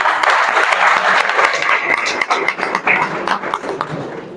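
A hall full of people at a court gathering claps loudly and steadily for a judge's appointment to the Supreme Court, a dense burst of applause that thins slightly toward the end.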